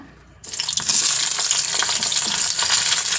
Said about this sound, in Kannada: ಇದೀಗ ಆಯಿಲ್ ಕಾದಿದೆ ಮೊದಲಿಗೆ ಇದಕ್ಕೆ ಹೆಚ್ಚಿಟ್ಕೊಂಡಿರೋ ಮೈಸೂರು ಬದನೆಕಾಯಿ ಹಾಕ್ಬಿಡೋಣ